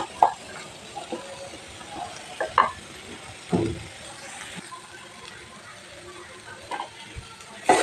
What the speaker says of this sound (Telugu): బీన్స్ చక్కగా వేగిపోయిందండి.